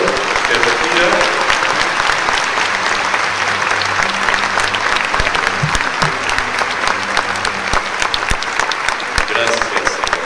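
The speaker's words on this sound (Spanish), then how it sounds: "El aplauso al Señor que retira." A congregation applauds loudly and continuously for the departing Lord at a Corpus Christi Mass, with dense, close clapping filling the church and voices and low tones audible beneath it.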